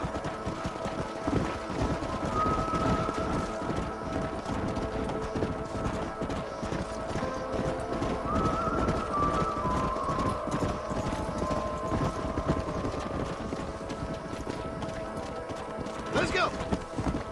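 Horses gallop across the Red Dead Redemption game world, a continuous thudding clip-clop rhythm that runs the whole stretch with a brief whinny near the end and game voices over it.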